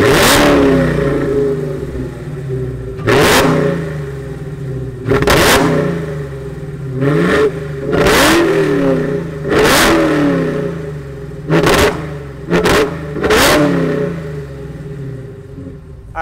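A 2020 Dodge Charger Hellcat Widebody with a 1,000 horsepower engine starts and then revs in a series of about eight loud, sharp throttle blips, each separated by a deep rumbling idle, with no one speaking.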